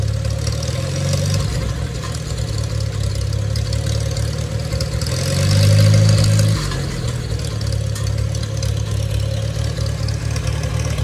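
Small engine running steadily after a throttle linkage adjustment, a continuous low hum with one brief rise in revs near the middle before settling back to idle, close and alone without talk.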